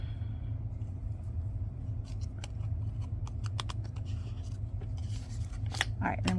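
Scissors trimming small paper tags for an explosion box craft, a series of short snips and paper rustles, close but quiet over a low steady background rumble.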